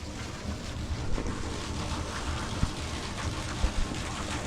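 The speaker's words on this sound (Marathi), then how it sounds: "तर एवढं पाणी कंटिन्यू चालतं" Water from a borewell pipe, running nonstop for six months, pours continuously into a well as a steady broadband rush with a few small splashy bumps, no voices.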